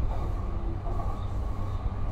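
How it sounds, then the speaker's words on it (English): A Tokyo Yamanote Line train runs along the track in a steady, continuous rumble, heard from the driver's cab with a constant roar and faint wheel hiss throughout. "This is the 山手線 train bound for 品川 and 渋谷。"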